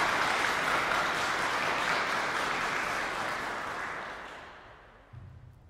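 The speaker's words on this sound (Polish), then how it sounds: "to też duże brawa." A loud burst of audience applause at a chamber music concert, dense and close at first, then gradually thinning and dying away to near silence.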